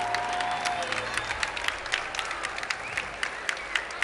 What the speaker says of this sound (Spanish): fuerte aplauso para el señor Juan José Castelli